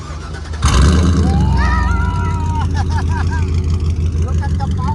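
A 6.0 liter V8 engine with a straight pipe exhaust revs loudly up close, a deep rumbling roar that climbs in pitch and then settles, with people talking and shouting over it.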